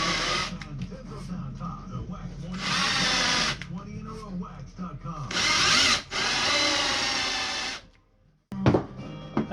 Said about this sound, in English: And now this is what I'm using for my countersink.